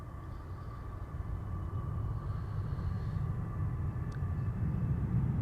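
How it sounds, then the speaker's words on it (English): A two-year-old Boeing 777 freighter arrives at the airport, a distant low jet rumble that swells steadily louder over several seconds with no voices. "Up next, flight 9914, 777 freighter, 2-year-old airplane, first flight June 2022."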